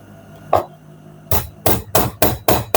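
Sharp metallic strikes from a steel pounding tool ring out close by on a trouser-waistband hook: one single blow, a pause, then five quick, evenly spaced hits.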